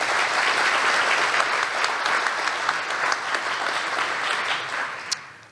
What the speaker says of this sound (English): So let's have a round of applause for all of them.